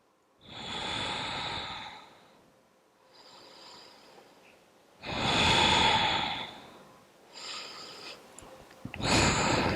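Slow, deep yoga breaths held through a pose, each long airy inhale or exhale swelling and fading with quiet gaps between, close and clear with no talking.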